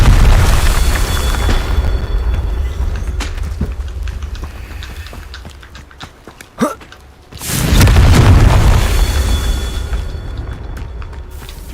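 Loud booming blasts of the Confringo fire spell in Hogwarts Legacy, a heavy rumbling burst fading away, then a sharp crack and a second big swelling explosion that rolls on for several seconds.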